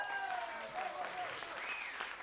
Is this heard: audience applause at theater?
yes